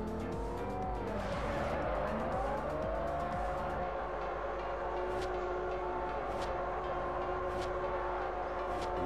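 A car doing a burnout in Forza Horizon 2, the engine holding a steady roar while tires squeal continuously, loud and close, with a few sharp clicks punctuating the sustained noise.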